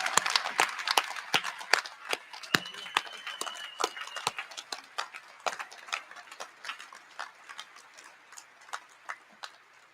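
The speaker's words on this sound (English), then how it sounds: "Will all of our graduates stand for a round of applause?" Scattered claps ring out from a graduation ceremony audience at a university winter commencement, loose and uneven with sharp individual hand strikes rather than a dense roar, moderately close and fading toward the end.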